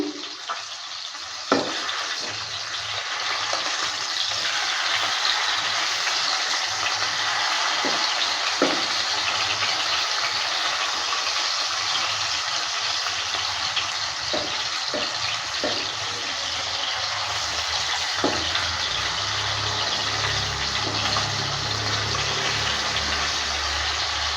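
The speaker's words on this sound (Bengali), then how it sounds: "এবার মাছগুলোকে উল্টে দিচ্ছে" Flipped rohu fish fry in hot rice oil with a continuous, even sizzle that lasts a long stretch, broken by a few faint clicks and taps from the pan.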